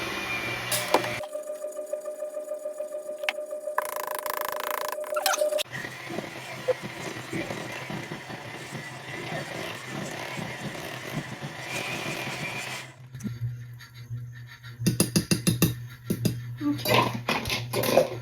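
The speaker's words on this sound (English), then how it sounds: "So I'm going to alternate between flour and buttermilk as I mix." Electric hand mixer whirring through pound cake batter as flour and buttermilk are added in turns, motor pitch shifting between steady runs with brief pauses and clinks of utensils against the bowl.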